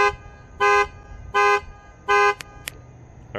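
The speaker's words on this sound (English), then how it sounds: "I'm gonna sound the horn again" A 2015 Ford Explorer's car horn sounds in three loud, evenly spaced blasts of about a quarter second each, heard from about two car lengths away, with two brief higher chirps after them.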